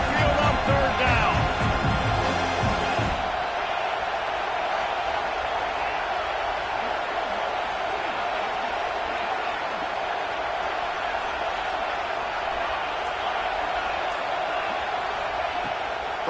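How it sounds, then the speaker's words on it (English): An Alabama Crimson Tide home stadium crowd roars steadily on a third down, a dense, unbroken wall of noise that starts out even louder and choppier, with a commentator's voice faintly underneath. "The Tide crowd rolling noise down onto Saban Field on 3rd down."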